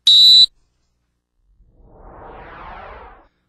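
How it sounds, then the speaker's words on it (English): A referee's whistle gives one sharp, loud, shrill blast to restart play for a free kick, followed by a soft swelling whoosh. "The referee must whistle for the restart to take place."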